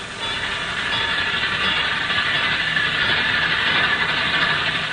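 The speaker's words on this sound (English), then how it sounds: "Hear the train?" A train rumbles steadily past a railroad crossing in a 1946 film scene, a continuous mid-distance roar with a bright hissing wash that holds level throughout.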